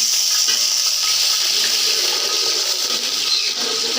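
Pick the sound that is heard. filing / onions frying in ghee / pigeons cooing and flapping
onions frying in ghee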